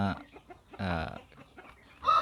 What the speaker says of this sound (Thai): แล้วก็ดูไก่ ที่ตัวเองเลี้ยงนะครับ